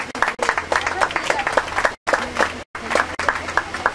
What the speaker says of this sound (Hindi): राहत भाई का एक बड़ी तालियों से स्वागत किया जाए।